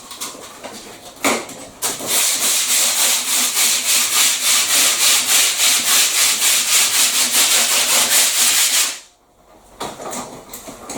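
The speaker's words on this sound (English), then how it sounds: "So that is literally all the sanding that we really have to do." Steady, rhythmic back-and-forth rasping of sandpaper on wood, close and loud, running for several seconds before stopping abruptly.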